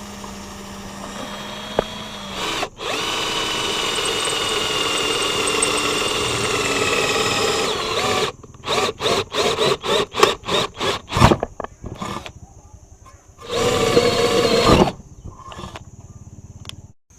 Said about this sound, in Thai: ก็ลองเจาะเหล็กกันนะ